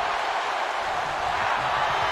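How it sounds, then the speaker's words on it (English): A deafening wrestling arena crowd during a Rey Mysterio versus Brock Lesnar WWE match keeps up a loud, dense, unbroken roar of cheering throughout. "The sound of this crowd is deafening, and he's asking for more"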